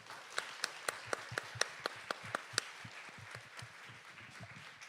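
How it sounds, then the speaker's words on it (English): An audience at a science symposium opening ceremony claps for the panel speakers, a faint, quick run of distinct hand claps that thins out into scattered clapping. "can we give a round of applause for all our speakers?"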